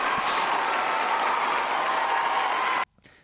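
A concert-hall audience in the 1995 film Mr. Holland's Opus applauds the premiere of a symphony with a loud, dense, steady wash of clapping that cuts off abruptly near the end.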